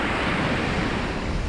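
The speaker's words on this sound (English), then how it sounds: "I hope you can hear me above the noise of the waves and stuff." Waves break on a North East Scotland shore as a steady, dense wash of surf mixed with wind buffeting the microphone, loud and continuous without pause.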